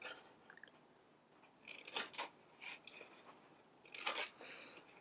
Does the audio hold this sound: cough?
no